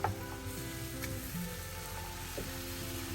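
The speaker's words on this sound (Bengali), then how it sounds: "শুধু এখন অলিভ অয়েল দিয়ে বসিয়ে দিয়েছি, কষাবো" Meat sizzles steadily in olive oil in a pan for a spicy home-cooked curry, a continuous close frying hiss with faint clinks and no talking.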